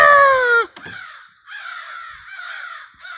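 Several crows caw loudly and repeatedly while circling overhead outdoors in Taunton, harsh calls coming in bursts with brief pauses between them, and no talking.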